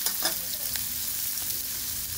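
Onions fry in a pan while being stirred until brown, giving a dense, constant sizzle with soft scraping of the spoon, close and fairly loud, with no voices.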